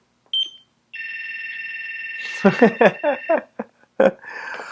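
A Beltronics RX65 radar detector sounds a short beep and then a sustained steady alert tone in response to a POP-mode radar shot, followed by someone talking over and after it.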